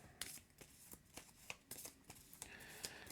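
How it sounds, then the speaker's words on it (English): Marvel Champions encounter deck cards being shuffled by hand, a soft papery riffle repeating in quick bursts at a close, quiet level with no talk. "So we shuffle these up."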